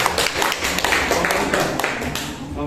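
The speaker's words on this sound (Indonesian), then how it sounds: "Oke, tepuk tangan dulu." Classroom applause from a group of students during a lesson, a short burst of brisk, uneven clapping that stays fairly loud and dense for about three seconds.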